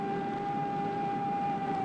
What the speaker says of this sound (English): There is in Honolulu one person whom the sound of the siren